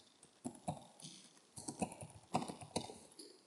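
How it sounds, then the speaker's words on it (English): Computer keyboard keys tapped in short, uneven bursts as an email address is typed, quiet and close with small pauses between groups of keystrokes. "So you type in your email address"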